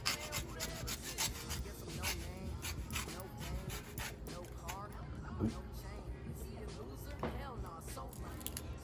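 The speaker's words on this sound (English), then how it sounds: "We're gonna get a little zest going." Close, quiet rasping and scraping strokes of a lemon rind rubbed against a fine zester, with people talking and murmuring over the sound.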